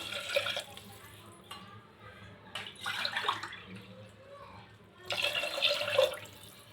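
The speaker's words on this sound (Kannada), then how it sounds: "ಆ ಗ್ಲಾಸಿಲೆ 2 ಗ್ಲಾಸ್ ನೀರು ಹಾಕ್ಕೊಳ್ಳಿ" Water runs and splashes in short bursts with gaps between them, close by, as glasses of water are poured into a pot for cooking rice; faint voices murmur underneath.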